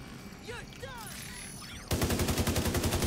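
Automated turrets in an online shooter video game open up in a sudden rapid, even stream of shots that continues steadily to the end, following quieter game noises and effects.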